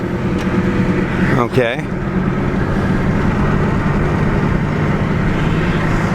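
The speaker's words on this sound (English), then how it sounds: "let's give the old Lincoln LS here a good run for the money" A 2005 Lincoln LS V8 Sport being driven, its engine and road noise a steady, loud drone with a brief sweeping pitch change early on, while a person talks briefly over it inside the car.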